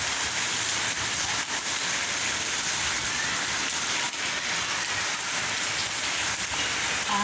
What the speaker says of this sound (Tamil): இப்போ பார்த்தீங்கன்னா சரியான மழை பெய்யுது.